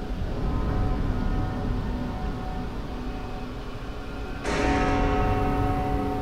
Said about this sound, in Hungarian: És megszól a nagy harang.